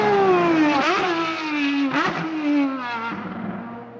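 A Ferrari race car engine revs hard and high, with gear shifts audible as sharp dips in pitch between rising pulls, loud and close.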